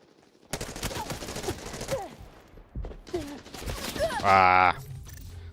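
Gunfire in the shooter Arena Breakout Infinite, a few short bursts and sprays mixed with game sounds and a loud electronic tone near the end, under a player's talk.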